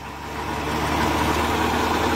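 A Kubota 4x4 tractor engine pulling a rotavator runs steadily in low gear, giving a continuous, loud diesel rumble with a rough knocking texture and no voices.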